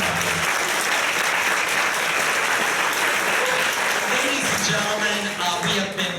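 Theater audience applause at a live musical comedy show, a full steady roar of clapping that continues with a voice briefly coming through near the end.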